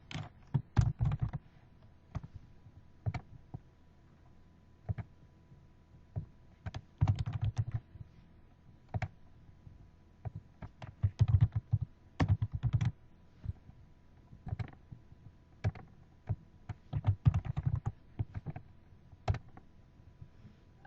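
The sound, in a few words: typing on a computer keyboard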